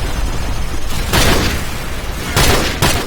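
Gunfire in the video game Call of Duty Modern Warfare, loud booming bursts and crackling shots over constant battle noise, with two heavier blasts standing out.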